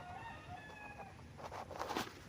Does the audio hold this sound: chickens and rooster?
yes